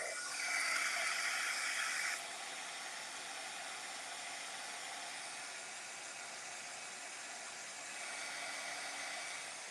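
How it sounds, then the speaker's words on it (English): A heat gun blows steadily over watercolor paint to dry spots before lettering, a continuous airy whoosh that is louder for the first two seconds, then settles into a steady hiss and swells slightly near the end. "I'm going to hit this with a heat gun just to dry some of these spots."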